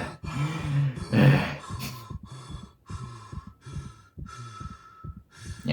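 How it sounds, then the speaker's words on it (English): Isaac from the Dead Space Remake recovers from oxygen loss. A close run of ragged gasps and heavy panting settles into a steadier rhythm of in-and-out breaths, with no speech over it. "you can expect to hear Isaac catch his breath as he recovers from a lack of oxygen"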